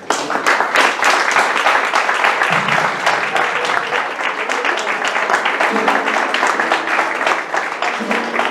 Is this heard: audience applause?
yes